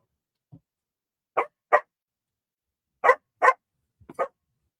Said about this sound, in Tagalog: Maingay pa rin yung aso.